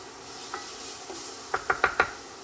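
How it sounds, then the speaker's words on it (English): Black bean chili sauce with tomatoes being stirred in a pot, a soft background simmer followed by four quick clinking spoon knocks against the pot near the end, close and brief. "Another quick stir."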